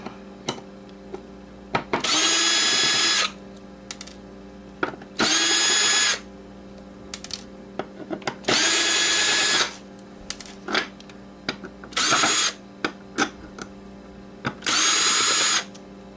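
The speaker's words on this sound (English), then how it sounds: "Let's get the drill back." Repeated bursts of a whirring power drill unscrewing parts, each running one to two seconds with short pauses and small clicks between, close and loud.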